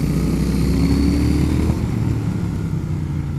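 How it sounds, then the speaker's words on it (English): A 2019 Triumph Speed Twin motorcycle engine drones while riding, its pitch dropping briefly midway as a gear change comes through, heard alone and fairly close. "I'm changing gear a bit here when I don't need to."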